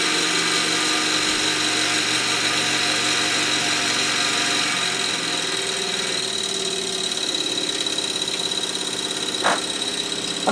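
A Mamod showman's traction engine runs steadily close by, driving a Meccano Ferris wheel, with a constant mechanical hum and whir that eases slightly partway through, alone without talk.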